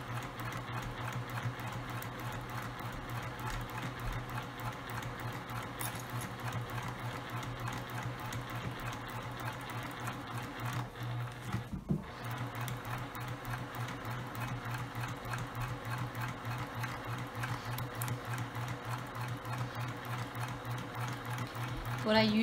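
A sewing machine stitching fabric for a zipper tote runs at a steady, rapid pace for over twenty seconds, close and continuous, with a brief pause midway and a soft voice speaking beneath.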